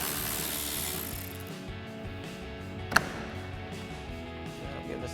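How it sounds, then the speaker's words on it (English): A ratchet with a 7mm socket backs out a fender trim screw on a 2014-2018 GMC Sierra 1500, giving a steady close clicking of the pawl with one louder clack partway through. "So we have a 7mm socket on our ratchet."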